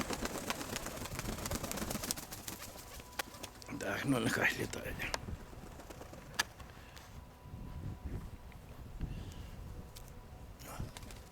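Pigeons in a loft coo softly in a low, rolling rhythm on a cold, snowless day, with an outdoor hum, scattered knocks and a voice over them.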